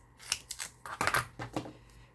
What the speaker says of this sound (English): I gotta use my little scissors to do that.